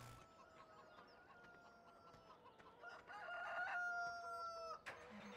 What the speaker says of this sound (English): Yes, yes, chickens, I can hear you.